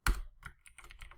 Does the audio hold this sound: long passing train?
no